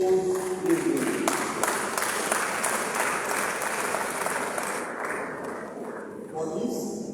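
An audience at a faculty public lecture on food and consumer sciences applauds in a dense, sustained round of clapping that fades toward the end, with voices talking over it.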